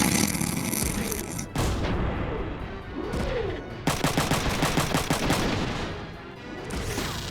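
Gunfire from the Front Mission 3 mecha battle game: loud, dense bursts of shots and heavy booms run through the whole stretch, with brief pauses between volleys.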